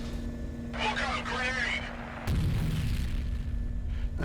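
A grenade goes off in the shooter game F.E.A.R., a sudden broadband blast that rolls into a rumbling low decay, following a stretch of speech-like chatter amid steady game ambience.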